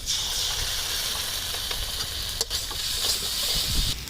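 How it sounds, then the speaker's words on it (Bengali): Kashmiri chilli powder and turmeric sizzling in a pan while a utensil stirs them for a vegetarian chana paneer curry: a constant close hiss of frying with soft scraping strokes and a sharp clink near the middle. "এবার ভালো করে এটা নেড়ে নেব"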